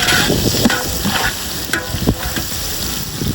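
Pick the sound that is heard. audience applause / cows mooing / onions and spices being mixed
onions and spices being mixed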